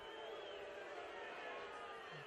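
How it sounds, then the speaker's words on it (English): Crowd noise fills the stands at an Australia Cup Round 6 football match between Preston Lions and South Melbourne: a steady, dense roar from many fans that holds at an even level throughout. "crowd certainly making their presence known as they have done all night"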